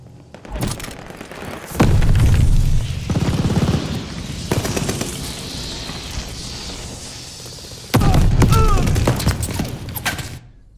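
Grenade blasts and gunfire in the World War II shooter Call of Duty Vanguard during a Team Deathmatch match with the G-43 rifle: two heavy, booming explosions several seconds apart, with crackling shots and scattered battle noise between them.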